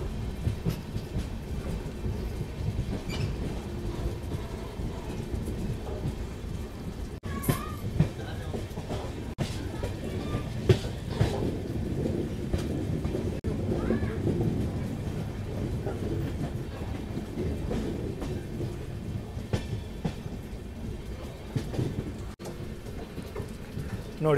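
A diesel locomotive train running along the tracks, a steady rumbling roar with rattling wheels and occasional sharp clanks, continuous and moderately distant.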